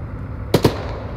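Two gunshots in the Arma 3 combat game, fired in quick succession: sharp, loud cracks about a tenth of a second apart against a low background rumble.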